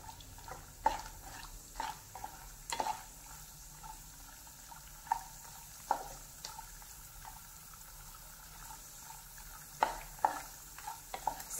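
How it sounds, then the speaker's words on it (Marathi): Cashews fry in a pan over a low flame in a soft, steady sizzle, broken by intermittent sharp clicks and scrapes of a stirring spoon, with no voices. "आता आपण इथे काजू तळून घ्यायचे आहे. लो फ्लेमवरती, हाय फ्लेमवरती नाही घ्यायचे तळून."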